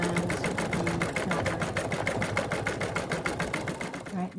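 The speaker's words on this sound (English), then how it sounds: "machine has stitched out the decorative stitch all around the applique" Embroidery sewing machine stitching a decorative stitch around a fabric appliqué, a steady rapid mechanical chatter with even needle pulses running continuously and close up, with no voices.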